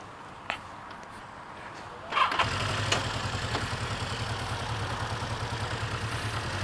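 A motorcycle that is running rough engine turns over and catches after a quiet stretch with a brief knock, then settles into a steady, close idle with a regular low pulsing that continues to the end.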